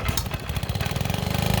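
An antique hit-and-miss engine runs at a Michigan antique tractor club show in Midland, putting out a close, steady, rhythmic chugging with regular exhaust pulses and no talking.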